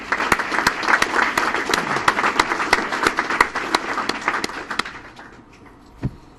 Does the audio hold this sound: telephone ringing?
no